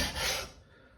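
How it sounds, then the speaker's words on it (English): A plane iron's edge rubbed on a 1000 grit sharpening stone dressed with compound, giving a single short, close, fairly loud rasping stroke that fades away. "take the 1000 grit stone like so, put a bit of compound on there, like that, and then literally take the edge"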